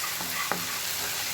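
Masala with turmeric and garam masala sautéing in a pan for peas pasta, giving a constant sizzle with a quick stir or scrape partway through.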